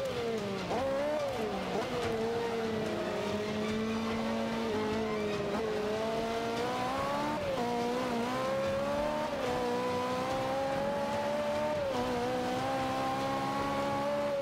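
Ferrari race car in Forza Motorsport 5 holding a loud, steady engine note that rises and dips with gear changes, running continuously without pause and with no talk over it.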